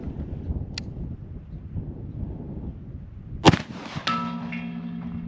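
A Sharps .45-70 rifle fires once, followed a moment later by a sharp clang as the bullet strikes a distant steel gong, which rings on with a sustained metallic tone.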